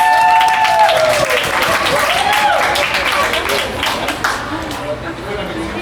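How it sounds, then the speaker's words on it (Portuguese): Audience applause for a presenter named Cris at a community event on migrant mapping results, a dense, steady wash of clapping that fills the room and gradually eases off, with some voices mixed in. "Uma salva de palmas para a Cris."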